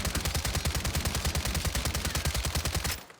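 Bosby firing full-auto in Warzone 3, a fast even burst of about thirty heavy close shots that stops sharply near the end, with no talk.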